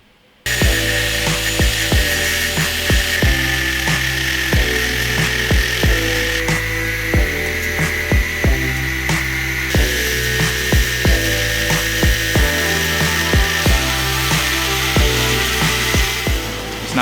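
A power tool cuts steadily through the metal casing of an Audi A4 TDI diesel particulate filter, a loud, continuous grinding whine with regular rhythmic pulses throughout, close and without speech.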